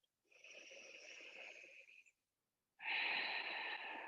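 Two slow, deep breaths during a relaxing yoga flow: a long airy exhale, a short pause, then a louder, fuller breath, close and clear in a quiet room.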